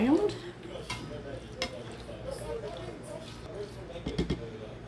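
Cooked tortellini get stirred around in a pan, giving soft scraping and light clinks against the pan under quiet kitchen background noise.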